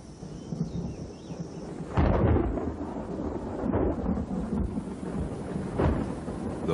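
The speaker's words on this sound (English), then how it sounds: "he will wait out the storm." A thunderstorm over the Amazon rainforest, with steady heavy rain and several deep thunder rumbles and cracks rolling through, loud and with no voices.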